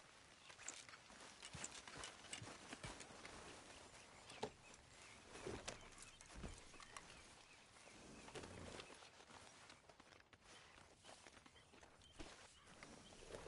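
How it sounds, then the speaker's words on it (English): Horses ridden in Red Dead Redemption 2 produce a muffled, continuous patter of hoofbeats and movement over ambient noise, fairly quiet with no one talking. "Grab your horse and let's go."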